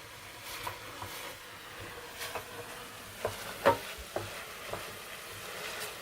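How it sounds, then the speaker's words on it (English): Vegetables are sweating in a pot on a small cooker turned up full for Scotch broth soup. A low, even sizzle sits under occasional stirring knocks and clinks from a spoon against the pot. "I've actually got this little cooker flat out, so that this really does sweat off beautifully."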